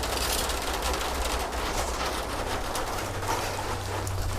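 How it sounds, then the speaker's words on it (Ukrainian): Heavy rain pours down steadily on a morning outdoors, a dense continuous hiss close by with faint bird cooing mixed in, no one speaking. "їдемо на зйомки і валить охрененний дощ"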